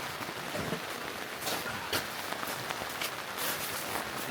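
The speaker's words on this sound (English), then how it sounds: "it's literally just dumping rain" Heavy rain pours steadily at a campsite by a yurt, a dense, continuous hiss of drops drumming on surfaces with occasional louder splatters, close and unbroken throughout.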